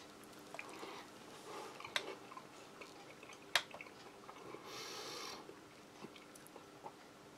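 Rehydrated space-food peach is eaten with a spoon, giving faint, sparse wet crunches and squishy chewing with small clicks, close and quiet without talk.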